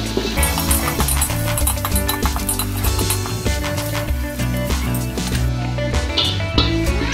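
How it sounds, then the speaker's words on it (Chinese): Garlic sautéing in a hot pan for a garlic sauce, a steady close sizzle and spatter with scattered clinks and scraping, no talk. "爆香蒜米。"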